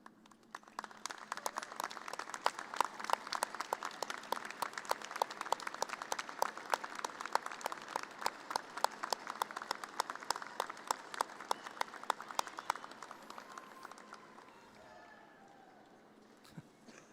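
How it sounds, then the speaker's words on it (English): Sustained audience applause at a spring 2025 architecture, planning and design commencement, with many hands clapping in a brisk, slightly rhythmic patter heard from a distance, then gradually tapering off and fading toward the end. "show you our appreciation with a round of applause"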